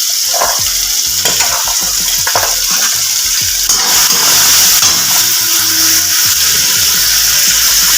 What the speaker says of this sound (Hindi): तो देखिए मैं इसमें मटर भी डाल दे रही हूँ।